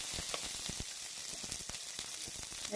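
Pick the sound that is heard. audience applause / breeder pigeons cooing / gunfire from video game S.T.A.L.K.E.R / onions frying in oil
onions frying in oil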